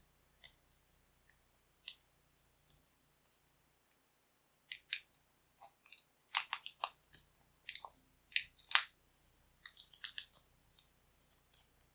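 Quiet, intermittent crisp rustles and sharp crinkles of origami paper being folded, creased and pressed, sparse at first and busier later, close up with no voices.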